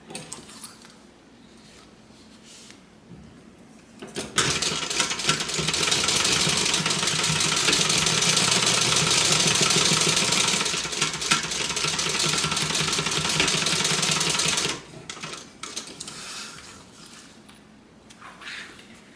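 Electric sewing machine stitching a fabric clutch bag with back stitches at top and bottom, running as a loud steady whir for about ten seconds, with quieter handling before and after.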